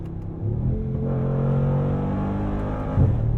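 A 577-hp 2021 Mercedes-AMG G63 engine revs with a loud, deep rumble that climbs and holds, then dips briefly near the end, heard from inside the vehicle without talk.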